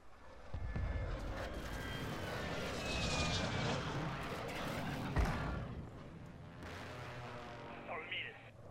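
In the Warzone video game, air-support aircraft roar overhead with a sweeping engine whoosh. Sharp blasts and gunfire mix in and a voice talks over the game.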